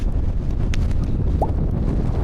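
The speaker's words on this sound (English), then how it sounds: "Crazy winds. So strong over here, it's worse than before." Strong, steady wind buffets the microphone on an open Lake District fell in the Coledale Horseshoe, a continuous low roar with no pause and a brief faint whistle partway through.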